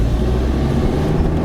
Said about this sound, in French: C'est quoi ce moteur qui broute